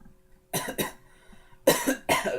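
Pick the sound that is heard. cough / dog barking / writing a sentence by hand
cough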